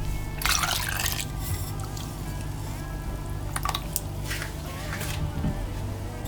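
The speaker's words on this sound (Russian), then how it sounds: "Жидкие ингредиенты, там соль, сахар, дрожжи, молоко и кипяток. Размешиваем." A spoon stirs liquid dough ingredients in a bowl: salt, sugar, yeast, milk and boiling water. The clip has quiet, irregular sloshing and clinking with a few brighter scrapes, and no talking.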